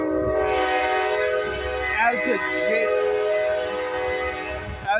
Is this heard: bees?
no